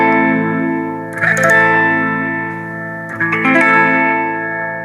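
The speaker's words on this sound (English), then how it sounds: "That's the phaser." A phaser effect on an instrument in a live reggae lesson, sustained harmonic tones with a wavy sweeping shimmer, two swelling accents around the first and third seconds, loud and alone without talk.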